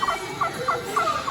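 Rapid repeated gobbles from animatronic turkeys on the Gobbler Getaway ride at Holiday World, several bursts in quick succession, close and clear over a faint background hum.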